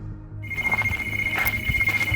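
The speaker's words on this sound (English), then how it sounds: "It eventually turns out to be a phone." A telephone rings in an abandoned building, a bright electronic ring starting after a brief silence and repeating in fast warbling bursts, close and clear with no talking.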